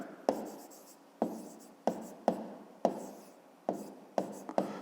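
Pen or chalk writing out a fifth-grade math division solution, heard as a series of sharp scratchy strokes, about eight distinct taps and scrapes in an irregular rhythm, close and fairly quiet, with no talking.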